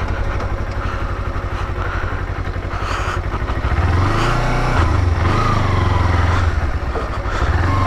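A Kawasaki Ninja 250R motorcycle, overdue for service, runs with a rapid, throbbing engine note that swells louder midway, with small clattering noises over the steady idle.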